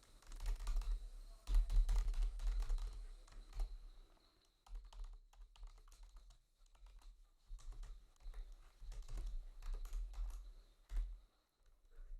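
Steady typing on a computer keyboard while Java code is entered, with irregular clattering keystrokes in close bursts and short pauses, fairly quiet and with no talking.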